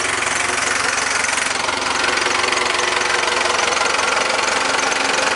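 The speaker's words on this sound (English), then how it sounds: "And here's the motor." A Cummins 4BT diesel engine in a Ford F150 truck runs steadily at idle, a constant rumbling drone with a fast knocking pulse, close and loud throughout with no voices.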